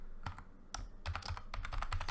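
Keys clatter on a computer keyboard as a user name is entered, a brisk run of close, crisp keystrokes that grows denser toward the end over a low background rumble.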